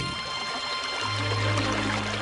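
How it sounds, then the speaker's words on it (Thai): Water flowing underground beneath rock, a steady pouring and trickling rush that grows fuller and louder partway through, with no talk over it. "ใช่แล้วเสียงน้ำไหลมากมายเลย"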